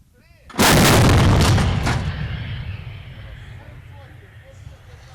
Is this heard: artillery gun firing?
yes